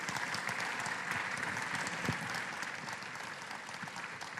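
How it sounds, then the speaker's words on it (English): An audience claps steadily after an architecture lecture, a dense, even wash of many hands filling the hall at moderate distance, sustained without a break. "I think that deserves a big applause from the audience being here."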